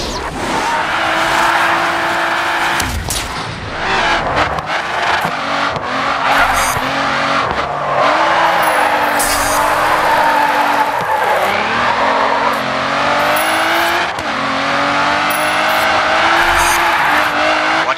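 A race car in GRID 2 drifts with long, loud tire squeals over a steady engine roar and revving, the screech rising and falling through repeated slides.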